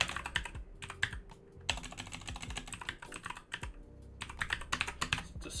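Steady typing on a computer keyboard: quick, uneven bursts of close, crisp key clicks with short pauses between runs.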